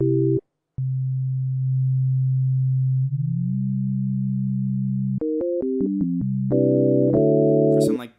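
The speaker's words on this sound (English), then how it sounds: "Let's tune one up to a fifth." Two synthesizer sine waves, one tuned up a fifth, hold a smooth pure tone that glides in pitch before stepping through quick melodic notes, clean and loud with no talking.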